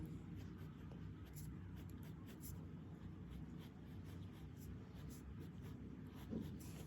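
A pencil scratches steadily across paper while the base of a cylinder is drawn, a faint continuous scraping with low room hum beneath.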